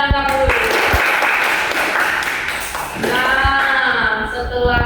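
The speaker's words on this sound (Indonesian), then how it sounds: "beri tepuk tangan untuk Wisna dan Angga dulu" Students in a classroom give a round of applause for two classmates, a steady wash of clapping with a few sharper claps, while a voice speaks over it.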